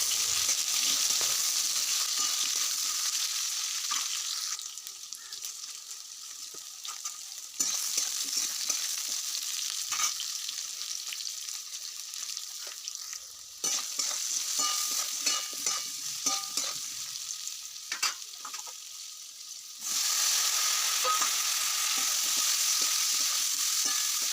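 Potatoes and green bananas sizzle loudly in hot oil while a utensil stirs and scrapes the pan in bursts, the frying hiss dipping and returning.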